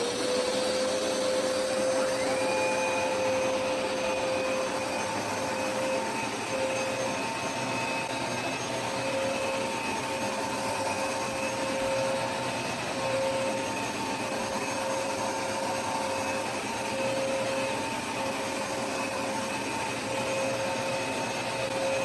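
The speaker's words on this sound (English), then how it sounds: "Hopefully you can also hear that powerful suction that I was talking about" A Hoover Smartwash automatic carpet cleaner runs continuously with a steady, even suction roar and a thin motor whine on top, holding at a constant level throughout with no voices.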